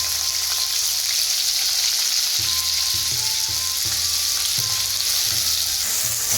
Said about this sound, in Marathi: हे टाकलं आहे आपण कांदा परतण्यासाठी तेल कढईमध्ये.